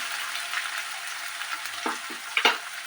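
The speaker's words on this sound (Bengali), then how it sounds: "পেঁয়াজটা কিছুটা ফ্রাই হয়েছে" Onions fry in a pan for shol fish kalia with a soft, even sizzle close by, broken near the end by a few quick stirring clinks and scrapes.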